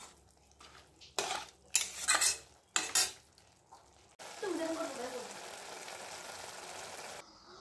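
Ghugni cooked in a pan in a home kitchen: several sharp metallic clanks of a spoon against cookware, then a steady sizzle of frying that goes on for a few seconds, close by.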